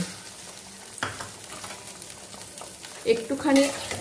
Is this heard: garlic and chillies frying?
yes